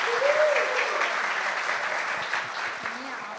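An audience claps steadily for a guest climbing onto the stage at a master of ceremonies event, sustained dense applause that slowly fades, with a brief voice or whoop early on.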